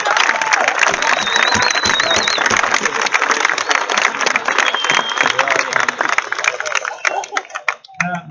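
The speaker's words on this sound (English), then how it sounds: "Please give them a round of applause for doing this." Dense applause and clapping from a school assembly audience after a car crash safety presentation, a steady loud wash of many hands with some crowd noise, tapering off near the end.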